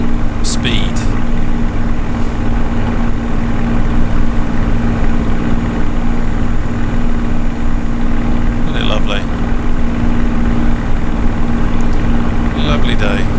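A Spitfire Mark 9 piston engine in Microsoft Flight Simulator drones steadily throughout, a loud continuous low hum with a few faint higher clicks over the top.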